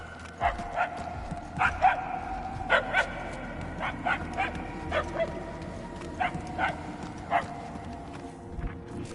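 A dog barks repeatedly in short, high yips at an irregular rhythm over a steady background hum, moderately close and clearly audible.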